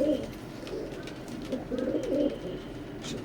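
Teddy pigeons of an imported bloodline coo in soft, repeated low murmurs, layered and continuous at close range, with faint chirps above and no talking.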